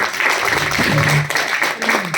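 A seated audience claps together for a couple of seconds, a steady, dense wash of applause with a voice faintly rising through it.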